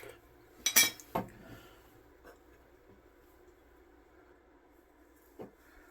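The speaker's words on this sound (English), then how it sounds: "I'm going to go ahead and add in all of my seasonings" Measuring spoons tipping seasonings into a pot of baked beans for canning, with a couple of quick metallic clinks early on, then a faint tap near the end.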